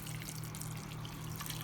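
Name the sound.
water poured into pot over meat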